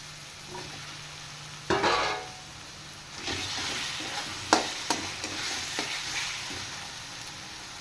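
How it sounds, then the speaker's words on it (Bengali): Spices sizzle in a hot pan under a steady hiss, broken by several scraping stirs and a few sharp clinks of a spatula. "এবার মশলাটা ভালো করে ভেজে নেব"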